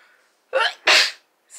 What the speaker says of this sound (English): sorry, I just had a sneeze right there.